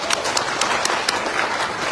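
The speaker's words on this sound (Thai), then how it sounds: "ขอเสียงปรบมือให้กับอิงเกิลและเอ็กซ์เพรสอิงเกิลในวันนี้ครับ" Applause from a seminar audience, a brief burst of scattered, moderately distant clapping heard alone.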